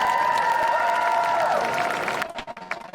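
A crowd at an outdoor API Heritage Month celebration at Seattle Center applauds and cheers loudly and continuously for a performer, then the noise thins into scattered claps and whoops.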